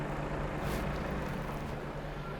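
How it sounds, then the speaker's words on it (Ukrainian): A 2021 Toyota RAV4 Hybrid running, with both doors damaged: a steady, even engine idle with a low hum and a broad rumble, unchanging and nearby, no talking. "ви бачите, що автівка в нас заведена, що вона працює"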